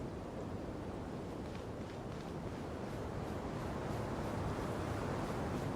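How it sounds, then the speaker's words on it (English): Steady, unbroken wind roars through a desert in Genshin Impact, a dense, even rush that holds at the same level from start to finish with no voices. "It's windy."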